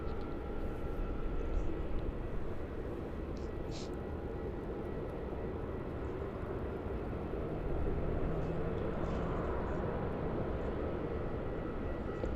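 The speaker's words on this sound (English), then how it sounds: "There's that 787. Just about to touch down now on runway 16." A Boeing 787 landing on runway 16 at Melbourne Airport, heard as a steady distant jet roar that swells slightly toward the end, under a constant outdoor rumble.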